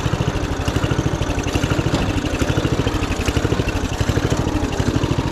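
A homemade budget racing lawn mower built from junk runs under way with a small engine chugging loud and close in a fast, even rhythm of firing pulses.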